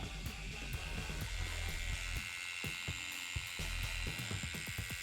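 A tattoo machine running a needle cartridge at 88 hertz, about 7.5 volts, gives a close, steady high-pitched buzz with a dense mechanical whine and scattered clicks throughout.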